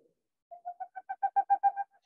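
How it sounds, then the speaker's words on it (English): A Boreal owl calls in a quick rising series of about ten soft, evenly spaced hoots, swelling in loudness toward the end, clear and isolated. "I'm going to go back to Boreal owl."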